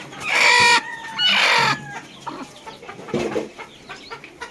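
Hens in a shed, sitting on their eggs, give two loud, drawn-out calls up close, followed by softer, scattered clucks and a few low squawks.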